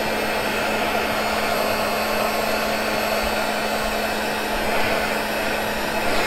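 A heat gun blows a steady, loud, unbroken roar while warming loose threads on a moss-style wool rug, constant and close from start to finish.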